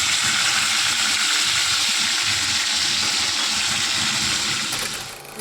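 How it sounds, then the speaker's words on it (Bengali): Onion paste fries in oil spiced with cinnamon, cardamom and cloves, giving a steady close sizzle and hiss that fades slightly near the end, with no voices. "পেঁয়াজটা দিয়ে কিন্তু কষে নিচ্ছি"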